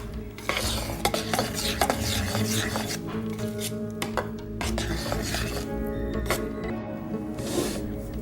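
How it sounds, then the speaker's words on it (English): Continuous scraping and stirring of hot process soap in a metal pot during the gel stage, with spoon knocks against the sides, close and steady throughout. "I'm just going to go ahead and stir it all together until the gel stage is complete"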